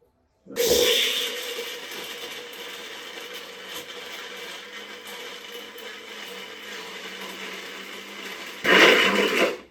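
A kitchen mixer grinder whirs continuously as it grinds spice paste with a little water, a loud steady motor roar starting abruptly, holding for about eight seconds, surging briefly near the end and cutting off.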